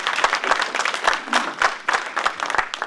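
Applause from an audience at a mushaira, an Urdu poetry gathering held by the Canada Urdu Association: dense, steady clapping from many hands that fills the room evenly for a few seconds with no voices on top.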